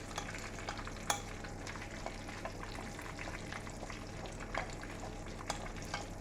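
Breaded pork sizzles and crackles steadily in a hot pan of oil, a continuous frying hiss with occasional louder pops, close up and without talk.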